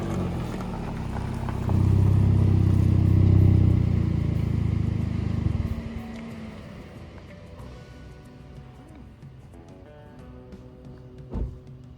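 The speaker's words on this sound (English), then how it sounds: "just listen to this car." A 2024 Hyundai i30 N engine rumbles loudly for several seconds while driving, then fades to a quieter idle-like drone with a brief thump near the end.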